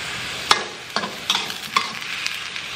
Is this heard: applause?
no